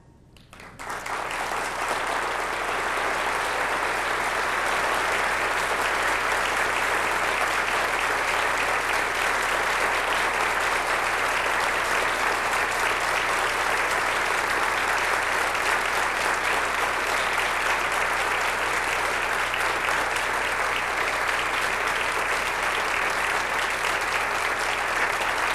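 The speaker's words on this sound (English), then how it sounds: "hear the applause of the Darjeeling Council on your" A large audience at a 1998 spiritual gathering in San Diego applauds loudly and steadily for over twenty seconds, a dense, unbroken wash of clapping that swells in at the start and holds.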